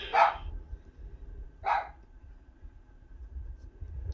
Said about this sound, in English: he's barking a bit more now, thinking that he sees things everywhere